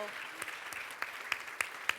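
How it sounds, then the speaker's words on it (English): A forum audience gives a round of applause, with scattered, fairly faint claps and a few sharper individual hand claps standing out over a soft background, and some voices mixed in. "Romina, Max, I'm going to give you guys a big round of applause"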